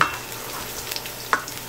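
Minced garlic fries in a pan toward light brown as part of a menudo base, making a soft, steady sizzle with a few brief clicks of a utensil against the pan, close and alone.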